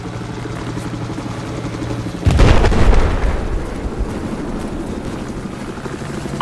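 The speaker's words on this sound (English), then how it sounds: "Hostile chopper spotted." A hostile helicopter in Battlefield 4 drones with a steady rotor hum, then a loud boom-like blast hits and decays into continued rumbling chopper noise, no talk present.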